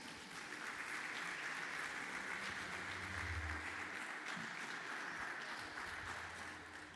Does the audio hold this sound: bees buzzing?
no